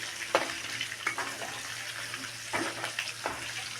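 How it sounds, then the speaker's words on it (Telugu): Ginger sizzles and fries in a pan with a steady broadband hiss, broken by a few stirring scrapes and clinks, close and moderately loud, no talk. "పచ్చివాసన అయితే పోయేదాకా వేయించాలి అల్లాన్ని"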